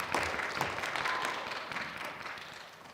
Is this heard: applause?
yes